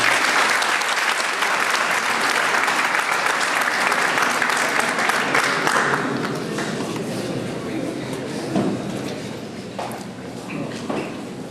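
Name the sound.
audience applause for the speaker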